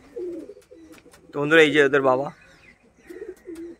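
Pigeons in a loft give a loud, throaty coo in the middle, with softer cooing before and after, while someone talks nearby.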